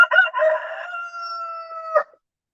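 A rooster crows nearby, loud and clear. A rough, broken opening gives way to a long held note that cuts off sharply. Faint clucking sits at the start.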